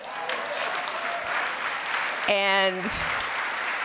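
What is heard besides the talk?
audience applause and clapping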